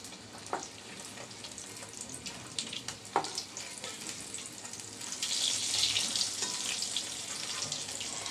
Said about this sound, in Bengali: দুই বেজ করে ভাজবো আমি এখন ছয় পিস দিলাম